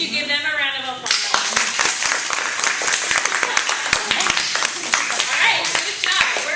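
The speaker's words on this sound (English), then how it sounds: "could you give them a round of applause?" An audience breaks into clapping after a brief stretch of talk, with distinct, scattered handclaps continuing steadily and fairly close, while voices carry on underneath.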